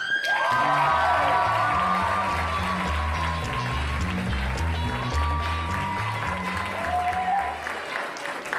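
A comedy club crowd applauds and cheers for an incoming stand-up comic, sustained clapping with whoops and shouts, a deep music bed thumping underneath throughout.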